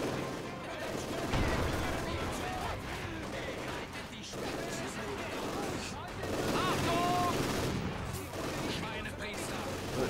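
Gunfire and explosions in the WWII strategy game Company of Heroes 2, a continuous rumbling barrage of shots and blasts with someone talking over the battle.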